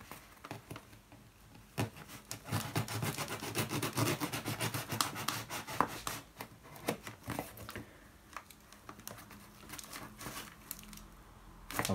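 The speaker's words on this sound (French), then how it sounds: "on va déballer le colis et puis je vais vous montrer ce qui se cache à l'intérieur" Parcel being unboxed, with cardboard and plastic packaging rubbed, torn and crinkled in dense, busy bursts close by, easing off toward the end.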